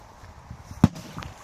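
A small Pirátik firecracker goes off under water with a single dull, muffled thump, close by, followed by faint splashing and a softer knock.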